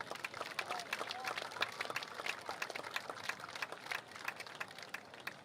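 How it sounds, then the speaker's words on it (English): Moderate crowd applause at a hall of fame induction ceremony, a loose patter of clapping hands from a modest gathering, fairly distant and uneven, with faint murmuring in the background. "A nice round of applause for inductee Phil Green."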